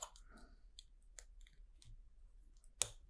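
Vintage 1985 LEGO train couplers from set 7735 being snapped together, faint scattered small plastic clicks ending in one sharper, louder snap, close and quiet with no talk.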